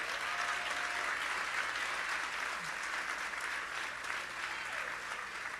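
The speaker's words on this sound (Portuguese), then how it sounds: "Aplauda ao Senhor" A church congregation in Lisbon claps during a sermon, a dense, even wash of applause from many hands that holds steady throughout.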